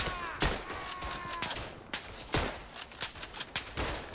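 Gunfire in the World War I video game Verdun, with repeated loud rifle and machine-gun bursts and distant fusillades cracking in uneven clusters, close and prominent.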